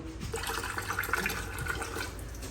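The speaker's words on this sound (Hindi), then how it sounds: "और अब इसमें थोड़ा सा हम डालेंगे पानी।" Water is poured into a bottle to tend a jasmine plant, giving a steady, close trickling pour that runs the whole time with no voices over it.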